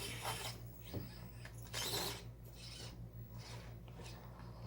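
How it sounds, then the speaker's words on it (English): Skid plate of an SCX24 RC crawler scraping on a rock, quiet intermittent rasping and grinding bursts with small clicks and mechanical whirring, close by. "It's getting hung up on that skid plate on that rock."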